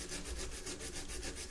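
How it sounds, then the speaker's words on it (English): Rapid, rhythmic scratchy rubbing strokes of sandpaper on a wooden guitar neck, close and steady, about ten strokes in a short burst. "this way I get a fresh piece of sandpaper. I don't wear out my sanding sticks."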